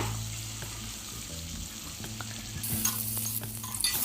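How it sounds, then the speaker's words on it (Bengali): Eggs frying in oil in a home kitchen pan, a steady close sizzle with scattered crackles and stirring scrapes, growing a little brighter and louder toward the end. "প্রথমে আমি ডিম ভেজে নিচ্ছি।"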